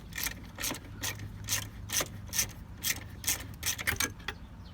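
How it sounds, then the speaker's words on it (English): A ratchet wrench clicks in quick rhythmic bursts while removing nuts from the steering coupling bolts of a 2013 Hyundai Sonata, fairly quiet and close, with no speech. "let me go ahead and get these nuts out of the way."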